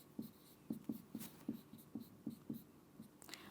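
Faint, close pen strokes scratch across paper as a word is written by hand, a quick series of short, rhythmic taps and scrapes in a quiet room.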